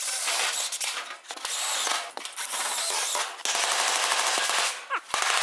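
Tack welding on a 1974 Dodge Charger body during hood and deck lid shortening gives a loud, steady crackle broken into several bursts, with brief pauses between tacks and sharp pops near the end.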